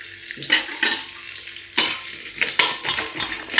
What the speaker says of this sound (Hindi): अब इसमें लहसुन डाल देते हैं।